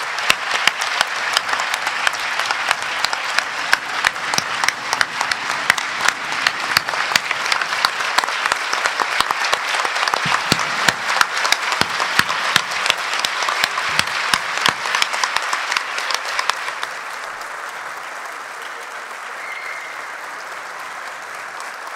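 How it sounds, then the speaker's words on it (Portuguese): Sustained applause at a political party congress fills a large hall, a dense, steady roar of many hands clapping for about seventeen seconds before fading to a quieter murmur of the room. "Peço uma salva de palmas."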